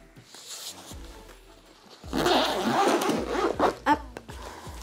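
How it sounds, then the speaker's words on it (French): A zipper pulled open on a fabric jewelry-making tool case, a rasping burst running for a couple of seconds at close range, followed by light handling clicks. "Vous avez une fermeture éclair pour l'ouvrir."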